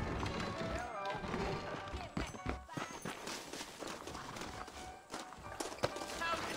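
Horse hooves clip-clopping in the Red Dead Redemption video game, a busy rhythmic stream of hoof beats mixed with game sounds, and someone talking over them.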